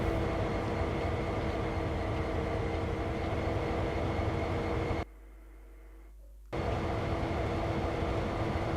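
Locomotive 8049 drives in Train Sim World 2, giving a steady loud rumble with a constant hum that cuts out sharply for about a second and a half before resuming.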